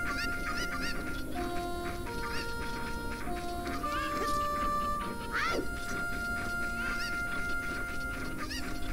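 Cuccos in The Legend of Zelda: Ocarina of Time give repeated squawking clucks, several scattered calls over game background music, faint and steady.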